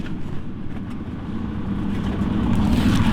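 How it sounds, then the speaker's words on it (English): A truck passes close by on a road, a low rumbling engine and tire roar that builds steadily in loudness. "Just gonna wait for this truck to pass."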